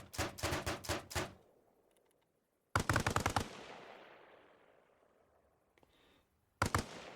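Bursts of 7.62 machine gun fire in Arma Reforger: a rapid string of shots, a pause, a second loud burst trailing into a long fading echo, then a short final burst, with no talking.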